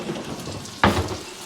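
A spoon tosses Parmesan chicken in a hot pan: steady sizzling with one sharp, loud scrape-and-stir burst midway, then the frying hiss carries on close by.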